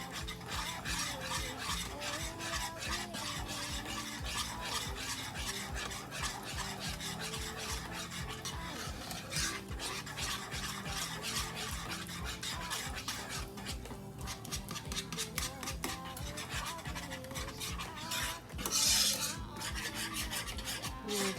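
Food being stirred and mixed in a pan with the heat turned off, a steady rhythmic scraping and rubbing of a utensil against the pan, close and continuous.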